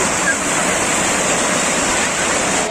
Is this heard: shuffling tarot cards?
no